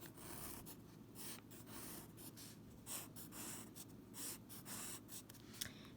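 Pencil drawing rectangles on paper during a fractions lesson, a steady scratchy rubbing that keeps going with short pauses between strokes, close and fairly quiet.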